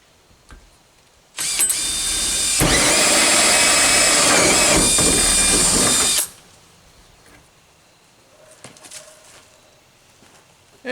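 A close, loud power drill with a hole saw bites into a wall for about five seconds, then cuts off, leaving quiet room noise.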